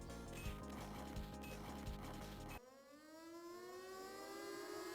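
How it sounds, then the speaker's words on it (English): Rising, wailing sirens open the Sega System 18 arcade shooter Hammer Away: after a loud mechanical, clanking game passage, swooping siren tones rise and overlap, sustained and fairly loud with no talk. "This is Hammer Away. I kind of like the way those sirens sound at the beginning"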